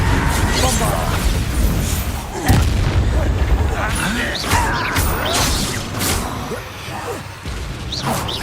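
A Bombarda explosion spell cast in Hogwarts Legacy during a battle against Ranrock's goblin loyalists at a campsite, a booming blast around the middle of a dense combat mix with whooshes and crashes.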